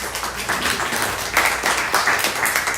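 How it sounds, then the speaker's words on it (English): A crowd at a kirtan gathering claps for the event helpers, a steady patter of many hands that swells partway through and keeps going at moderate volume. "we'll give them a round of applause"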